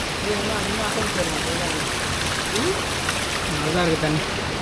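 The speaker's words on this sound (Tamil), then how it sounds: "தண்ணி ஆர்ப்பரித்து ஓடுது" A mountain stream on the Agasthiyamalai forest trek rushes in a constant, dense wash, with people talking over it intermittently.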